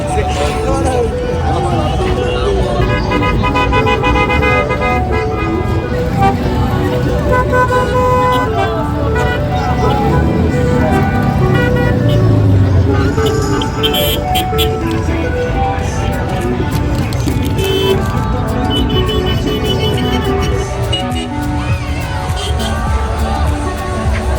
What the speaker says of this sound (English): cars honking and people shouting in celebration